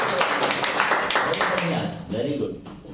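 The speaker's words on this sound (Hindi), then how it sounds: "वाह, ताली हो" Students in a classroom burst into a short round of clapping, brisk overlapping claps filling the first couple of seconds before fading as a teacher's voice takes over.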